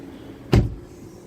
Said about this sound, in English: this is how you open the gas. You just press on it.